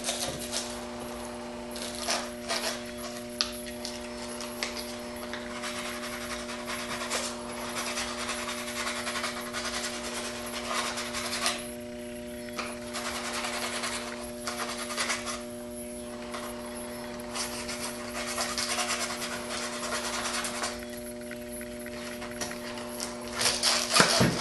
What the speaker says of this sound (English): now I'm going to go ahead and sand the tip of this